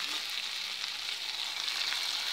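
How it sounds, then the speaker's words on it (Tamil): Onions and tomatoes sautéing in a pan make a steady, close sizzle, an even frying hiss with soft crackles throughout and no talking. "வெங்காயம் தக்காளி எல்லாம் நல்லா வதங்கிடுச்சு."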